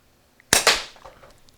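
A HDR68 pepper ball revolver fires one loud, sharp pop, followed almost immediately by a second crack and a short decaying tail, close up, with no talking.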